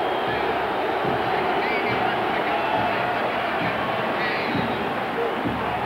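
Dense roar of a football stadium crowd at a 1995 USC at Washington game, loud and continuous, swelling in waves of cheering with no pauses.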